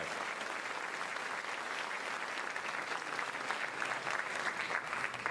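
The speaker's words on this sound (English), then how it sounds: "those numbers are certainly worth another round of applause for the class of 2025" A full audience at a senior awards evening claps for the graduating class of 2025, a dense, steady round of applause heard from a distance throughout.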